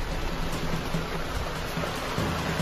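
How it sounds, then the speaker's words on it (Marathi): Heavy rain pouring down in a dense, steady hiss, close and fairly loud, with no talking. "इथं भरपूर पाऊस आहे."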